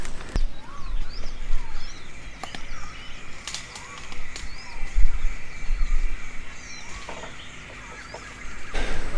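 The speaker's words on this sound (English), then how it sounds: "It's a lot of birds around making noises" Birds in Indonesian jungle give repeated chirps and short whistled calls at moderate distance, rising and falling against a steady insect-like hiss, with a few sharp knocks mixed in.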